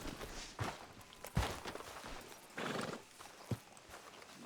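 Horse hooves in Red Dead Redemption 2 clop in a few distinct, spaced steps at close range over a soft, steady background.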